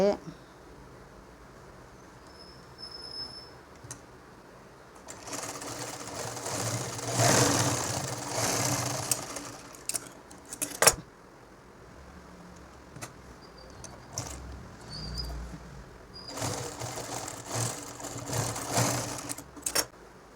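An electric sewing machine stitches a nightdress at home, running in two sustained loud bursts separated by quieter pauses where fabric is handled.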